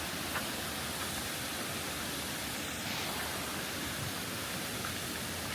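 A big waterfall in Savaii, Samoa, splashing in a steady broadband roar that fills the whole clip, constant and fairly loud with no pauses.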